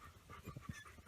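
Tonka, a hyperactive dog, pants in short, quick, breathy puffs, close and fairly quiet.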